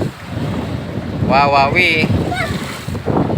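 Strong sea waves and gusty wind on the Batangas coast, a steady loud roar with wind buffeting the microphone, while someone talks over it.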